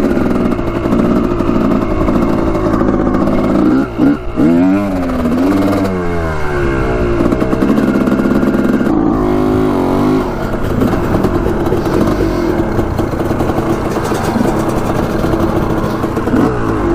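Honda CR250 two-stroke dirt bike engine running continuously and loud, close up, with rising and falling revs and a steady raspy drone throughout; no speech.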